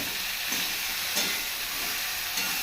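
Ridge gourd frying in a pan for a fish curry with potato, giving a steady close sizzle with a few soft stirring scrapes and no voices.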